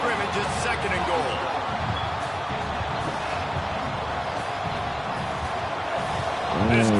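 A stadium crowd in a college football video game roars steadily throughout, a dense, loud wash of noise that swells slightly at the very end.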